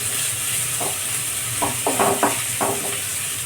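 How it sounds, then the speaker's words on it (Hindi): Onions sizzle steadily in a hot pan while a spoon scrapes and stirs them in several short strokes, close by, with no voices. "गैस का फ्लेम मीडियम रखेंगे और प्याज को बराबर चलाते रहेंगे"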